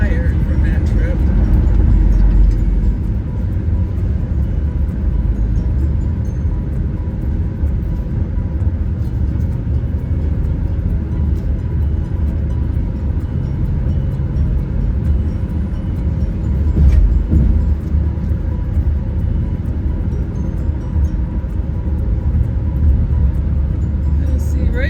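A car cruising on a highway at about 75 mph, a constant loud low road and engine rumble with wind noise filling the whole stretch, steady and unbroken.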